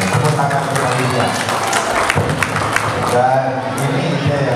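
An audience at an Indonesian talk show bursts into dense, steady clapping that stays loud for the whole stretch, with crowd voices mixed into the noise.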